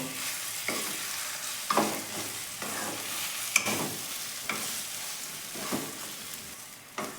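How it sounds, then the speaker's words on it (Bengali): Mashed boiled potato with chopped onion and spices is stirred in a pan over low heat, a soft sizzle beneath evenly spaced scraping strokes of a spatula, roughly one each second. "আলুটার সাথে সমস্ত পেঁয়াজ কুচি আর মশলাগুলো মিশিয়ে নেবো"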